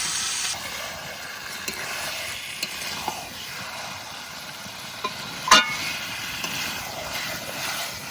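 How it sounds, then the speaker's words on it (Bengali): Country chicken sautés in a pot over a wood fire, giving a steady close sizzle and frying hiss with light stirring scrapes and an occasional sharp clink. "মাংসটা একটু কষিয়ে নিই"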